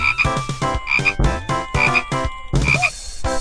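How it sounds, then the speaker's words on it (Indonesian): Frogs croak in a jungle-themed shooting game, a rapid run of loud, close, clipped croaks in quick bursts with short gaps, heard alone without any talking. "Ya kodok."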